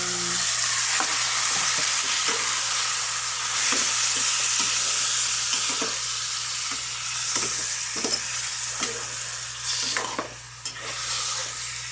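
Chicken pieces sautéed in a pot for sinigang na manok give a loud, continuous sizzle, broken by repeated scraping and stirring strokes from a spoon, close and alone with no talk.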